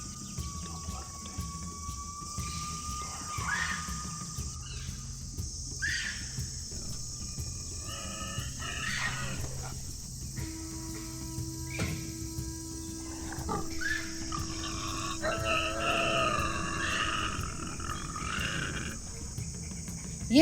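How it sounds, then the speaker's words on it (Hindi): Jungle wildlife calling on a safari in Dandeli forest, with birds whistling and chirping in scattered calls over a continuous insect drone, some sounds distant and others nearer, no talking. "यहाँ पक्षियों और मंकीज की कॉलिंग हो रही है"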